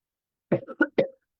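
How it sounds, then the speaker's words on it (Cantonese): Three short coughs in quick succession, close and fairly loud, with silence before and after. "嗱，而家咳俾你睇。"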